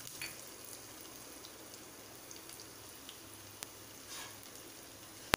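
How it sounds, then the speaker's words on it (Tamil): Cumin seeds and chopped ginger tempering in hot ghee and oil, a steady soft sizzle with faint crackles and a couple of small pops, no talking. "இதுக்கு ஒரு தாளிப்பு சேர்த்துடலாம்."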